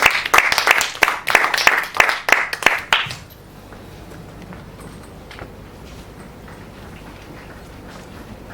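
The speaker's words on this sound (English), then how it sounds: "Two rounds of applause." An audience applauds after a presentation, a burst of rhythmic hand clapping for about three seconds that cuts off into a quiet room with faint murmuring.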